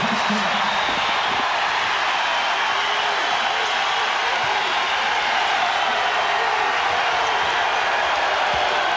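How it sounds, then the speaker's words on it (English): A basketball arena crowd cheers in a steady, hissing roar that holds at high, even loudness, with a play-by-play announcer faintly talking underneath. "Here comes the crowd again."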